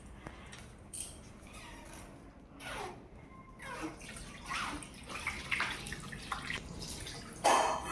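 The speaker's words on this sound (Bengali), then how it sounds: "হাত ধোয়া হয়ে গেছে" Water runs from a tap while hands are washed, a steady gushing wash with splashy bursts throughout, close by and moderately loud, with no one speaking.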